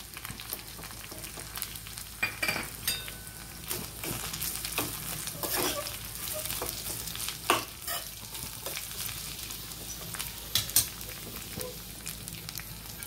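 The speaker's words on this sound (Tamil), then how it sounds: "நல்லா வதங்கி வந்துருச்சு" Perandai thuvayal ingredients sautéing in a pan give a steady close sizzle and frying crackle, broken by clattering stirring scrapes at irregular intervals, with no voices.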